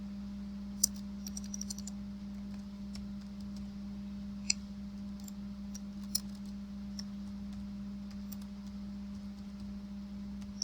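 Light typing on a computer keyboard while writing Java code, with irregular soft clicks and a few sharper taps over a steady low electrical hum, close and quiet, with no talking.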